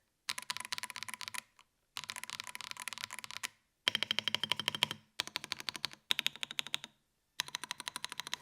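Rapid typing on an Akko 5075B Plus mechanical keyboard with PE foam switches, close up, in several bursts of crisp, quick keystrokes separated by short pauses, with no talking.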